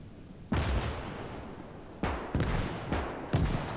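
Mortar shells go off in the Gates of Hell strategy game, several distinct booming thuds with a rumbling tail. Impacts fall at about 0.5, 2, 2.4, 2.9 and 3.3 seconds over low battlefield rumble.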